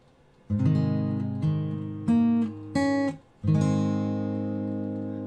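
Fingerstyle acoustic guitar plays measure 17 of a piece slowly, with a strummed chord followed by several separate plucked chords and notes, each ringing out in a halting, deliberate rhythm, close and clear.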